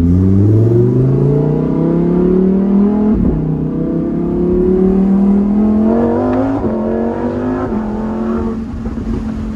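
Lamborghini engine revving hard through a shift, a loud continuous roar that swells, breaks off and climbs again, with crackles and pops at each downshift, close and alone.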